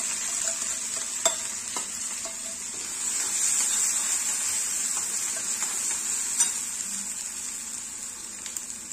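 Ground spice paste with cumin hits a hot pan for Maharashtrian patvadi, giving a steady close sizzle and frying hiss with occasional stirring scrapes and clicks throughout, and no voices.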